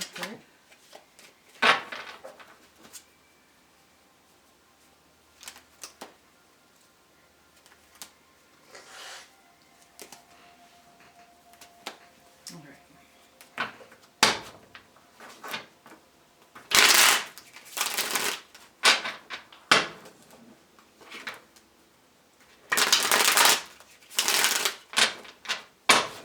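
Tarot cards are shuffled in several short, crisp bursts of riffling, separated by quiet pauses, fairly faint and close by.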